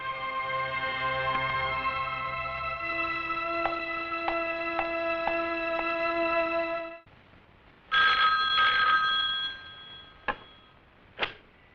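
A telephone rings at a police station in a Hindi film, a steady electronic trill repeating for several seconds, then a brief pause and a few sharp clicks and clatters.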